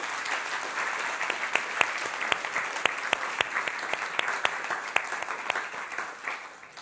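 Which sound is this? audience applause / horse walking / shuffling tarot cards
audience applause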